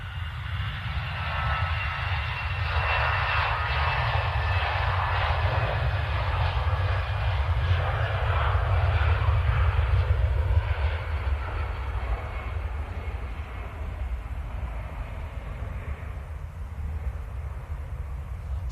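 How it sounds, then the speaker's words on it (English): An EasyJet airliner bound for Paris Charles de Gaulle rolls for takeoff on runway 23L at Manchester Airport, its jet engines giving a loud, sustained roar that swells toward the middle and then eases slightly as it continues. "EasyJet to Paris on the roll."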